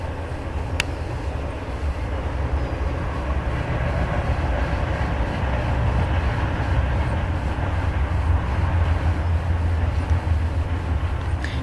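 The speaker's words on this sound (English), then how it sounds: "There's something energetic about trains to me. And when they go by, it just signifies a very energetic movement." Train rumbling past at a steady, fairly loud level for the whole stretch, a continuous low roar with hissing wind noise and no clear talking.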